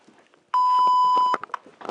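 A single steady electronic time-signal beep tone marking Universal time rings for just under a second, with faint murmuring voices before and after it.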